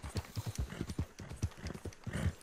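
Horse hooves clip-clop steadily at a trotting rhythm in the Red Dead Redemption video game, close and fairly loud over a noisy background.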